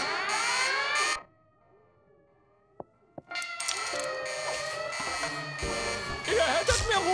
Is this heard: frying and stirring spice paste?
no